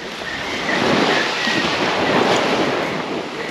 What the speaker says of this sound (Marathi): मस्त लाटा येत आहेत भारीमध्ये